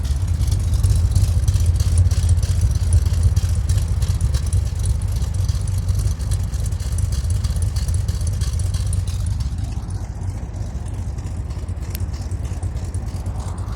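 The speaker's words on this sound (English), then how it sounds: "Just a awesome sounding exhaust, just like you'd expect for a big block built to this caliber" A rebuilt 454 big-block V8 in a 1974 Chevrolet Corvette idles steadily through its exhaust, a deep, loud, close rumble with a lumpy, even pulse that continues without any talk.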